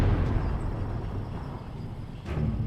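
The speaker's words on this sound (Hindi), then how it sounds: "धमाके पर धमाके हो रहे थे" An ammunition truck blows up in an audio drama, heard as a continuous low, rumbling roar with a couple of sharper bursts, moderately quiet and without talk.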